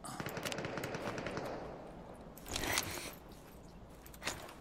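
Gunfire in the battle royale video game Super People sounds faint and distant. A rapid rattling burst comes first, then a few louder isolated reports follow after a pause.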